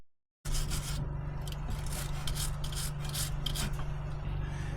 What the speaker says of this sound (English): let's wire brush that outlet, or inlet I guess, just to make sure there's no gunk on it